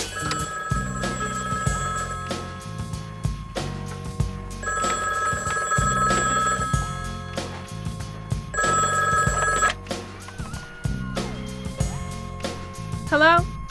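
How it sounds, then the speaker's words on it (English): An old-style telephone bell ringing in repeated bursts over a steady hip-hop beat, with voices heard between the rings. "Answer the phone."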